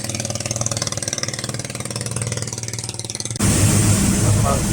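The diesel engine of the roughly 80-seat passenger boat SB Kurnia throbs steadily as it pulls away from port, a pulsing mid-pitched drone that turns louder and rougher near the end, with someone talking over it.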